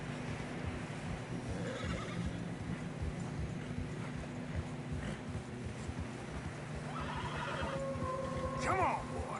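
Horses in the Red Dead Redemption 2 video game whinny and snort while trudging through deep fresh snow on a narrow path, with hoof clops and a steady wind-like background throughout and a louder neigh near the end.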